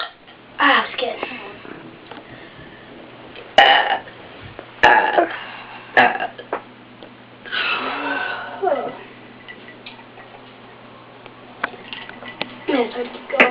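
A person in a bedroom burps repeatedly, loud close croaking belches spaced a second or two apart over roughly a dozen seconds, with quieter breaths and murmurs between them.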